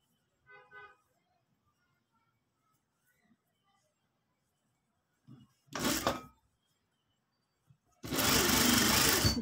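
A sewing machine double-stitching a shirt at the shoulder seam, two loud bursts of rapid whirring, a short one and then a longer run, after quiet pauses and a brief voice.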